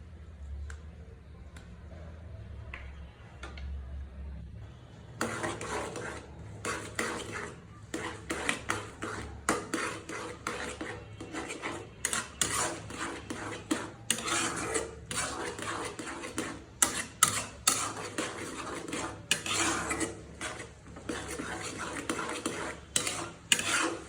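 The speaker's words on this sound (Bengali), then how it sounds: "আমি এখন দিয়ে দিচ্ছি সরিষা বাটা।" Mustard paste going into a pan for garlic pickle, followed by steady close stirring with a utensil scraping and clinking against the pan, a quiet start then dense repeated scrapes.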